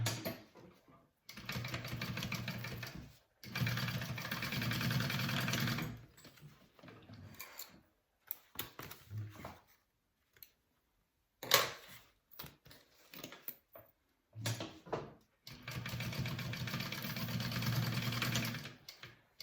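A sewing machine bastes down fabric pleats on a pouch, running in close, steady whirring bursts with short stops and quieter handling sounds between runs.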